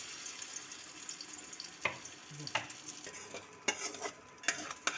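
Mutton brain mixture dropped into hot oil in a kadai, frying with a steady soft sizzle while a utensil clinks and scrapes in sharp intermittent taps, close and fairly quiet.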